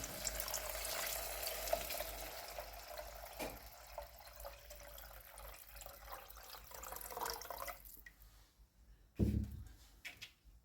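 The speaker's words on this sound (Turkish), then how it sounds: "Şimdi 5 bardak suyumuzu da koyalım" Water is poured into a pot, running and splashing steadily for several seconds, then stops, followed by a brief clatter and a few faint knocks.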